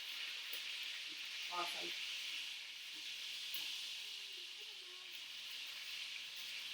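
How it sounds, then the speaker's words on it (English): Chicken thighs and onions sizzle in an iron pan, a steady close hiss of frying fat throughout with a few soft stirring clinks and a brief word spoken. "So you can hear the sizzle on that, I'm sure."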